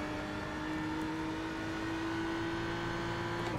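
A BMW race car in iRacing at Road America holds a steady engine drone through a corner, with a constant pitch, close and alone.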